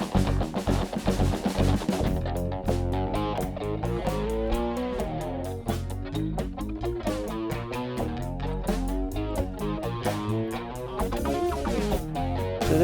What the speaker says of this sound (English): So just chorus all by itself is a dual mono chorus, and it'll sound kind of like this.